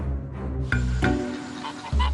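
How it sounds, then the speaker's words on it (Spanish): Village geese honk loudly and close, with several overlapping calls and sharp onsets over a low, steady background. "se podían encontrar bandadas de gansos en todas las aldeas"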